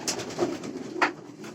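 Racing pigeons near the loft cooing softly, a few short close coos and wing or foot rustles against a quiet background.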